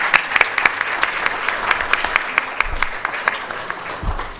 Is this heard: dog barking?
no